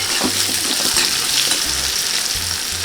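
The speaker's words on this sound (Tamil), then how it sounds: "அதனால் நீங்கள் தோலோடு போட்டு தாளித்து பாருங்கள்." Unpeeled garlic cloves crackle and hiss in hot oil while tempering a fish curry. The frying is a steady, close sizzle with a few soft low thumps underneath and no speech.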